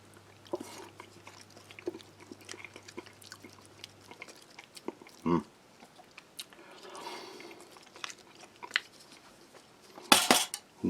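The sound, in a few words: stirring hot pepper flakes into ration meal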